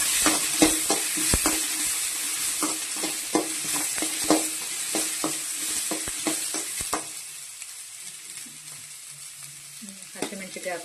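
Ginger and garlic frying in oil for chicken pulao, a bright steady sizzle with rhythmic scraping stirs of a spoon against the pan, the stirring stopping partway as the sizzle quiets.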